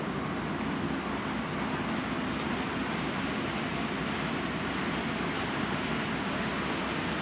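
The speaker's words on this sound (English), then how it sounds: "There goes the passenger train." A model passenger train runs steadily on a B&O layout, giving a continuous rolling rumble and rail noise that stays fairly loud and even throughout, with no talk over it.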